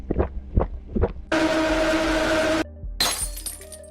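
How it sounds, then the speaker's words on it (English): A wine bottle shatters in the video game Bad Parenting, a loud sustained burst of breaking glass after a few low thuds, followed by a second scattering crash of pieces. "all of a sudden the bottle shatters into pieces"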